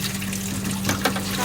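Tap water runs steadily while dinner plates are washed, a close, continuous splashing wash with a low hum underneath and a couple of small clinks.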